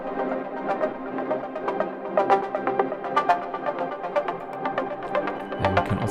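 Layered drum sample group processed with compression and an envelope shaper, giving a pumping feel; a dense rhythmic pattern of repeated hits over sustained tones plays steadily alone, with a low thump near the end.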